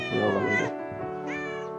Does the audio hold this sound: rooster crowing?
no